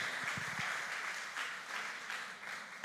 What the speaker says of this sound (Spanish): Démosles un aplauso a Daniel y a su esposita.